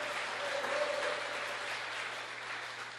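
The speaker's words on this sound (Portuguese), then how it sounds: "Pode aplaudir o nome do grande rei." A church congregation applauds in a dense, steady wash of many hands clapping together, sustained without a break and heard from within the hall.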